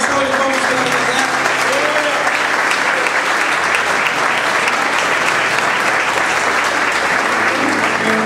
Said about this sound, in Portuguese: salve de palmas para a Andressa